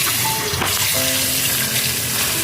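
Amodi fish frying in hot oil gives a steady, close sizzle with a bright crackle that holds evenly throughout.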